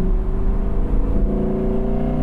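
A 5.2-litre V10 car engine under load gives a deep, guttural, hammering drone that holds steady and loud, with no voices over it.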